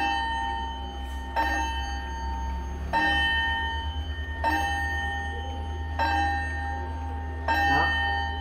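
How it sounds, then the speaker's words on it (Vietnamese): A pendulum wall clock sounds its half-hour chime, six evenly spaced, ringing strikes each decaying into the next over a steady low hum, loud and close with no talking. "Con này thì có tiếng chuông của nó như này."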